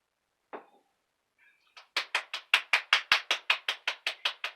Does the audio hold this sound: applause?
yes